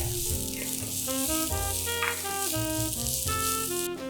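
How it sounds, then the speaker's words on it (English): Spices and thinly sliced garlic sauté in a hot pan for potato masala, giving a close, steady sizzle while bright tonal sounds, likely background music, play along throughout. "And saute for 1 to 2 minutes until they turn light brown and become fragrant."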